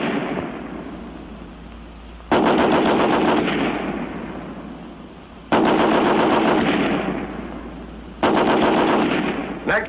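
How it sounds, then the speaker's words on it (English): An American Light 30 machine gun on a bipod fires 30 rounds in three long, loud automatic bursts, each a rapid rattling stream of shots with echoing decay between the bursts. "each weapon will fire 30 rounds. First, the American Light 30 on the bipod."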